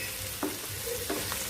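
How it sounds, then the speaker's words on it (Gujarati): Ginger, garlic, onion and tomato fry quietly in a pan, a soft low sizzle broken by a few stirring scrapes. "આ રીતે મેં આદુ, લસણ, ડુંગળી ને ટામેટાને ફ્રાય કરી દીધા છે."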